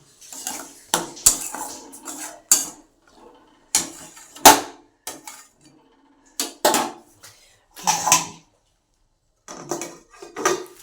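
Metal utensil scrapes and clacks in a pan while potatoes and spices are stirred for a hotel-style aloor dom, coming in irregular bursts separated by quiet gaps.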